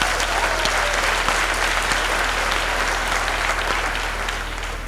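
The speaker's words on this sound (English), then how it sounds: "So please give them a round of applause." Steady, dense applause from a graduation ceremony audience at VUT Main Campus, honouring a university choir; loud and continuous, easing slightly toward the end.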